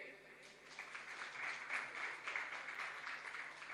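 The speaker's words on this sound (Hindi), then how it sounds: "तो ताली बजाइए।" Audience clapping at a disability-issues convention, a fairly quiet, steady spread of applause filling the whole stretch at a distance.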